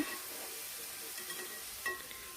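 Chopped green chillies, onion, tomato and okra frying in a pan for ilasa fish curry, a soft continuous sizzle and hiss with a few light stirring scrapes near the end, no voice.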